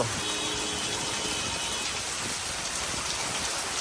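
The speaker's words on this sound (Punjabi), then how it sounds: "ਦੇਖੋ ਜੀ ਮੀਂਹ ਨੇ ਕਿਦਾਂ ਹਨੇਰੀਆਂ ਪੱਟੀਆਂ ਪਈਆਂ ਆ ਅੱਜ" Heavy storm rain pours down steadily over paddy fields, a dense, constant hiss of drops hammering surfaces, with no voices.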